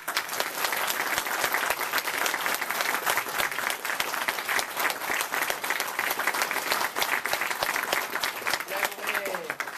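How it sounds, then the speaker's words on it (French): Continuous audience applause after an amateur theatre performance at a community hall, steady and fairly loud throughout, with a few voices faintly mixed in. "on les applaudit"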